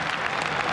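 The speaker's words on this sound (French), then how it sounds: "le public lensois applaudit les Monégasques surpris à leur entrée sur le terrain pour l'échauffement" A stadium crowd of RC Lens supporters in Ligue 1 applauds AS Monaco players as they walk onto the pitch, a dense, steady roar of clapping filling the whole moment.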